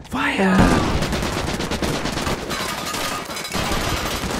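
A rapid burst of machine gun fire from a film rattles on continuously, dense and loud, with a brief whistling tone at the start.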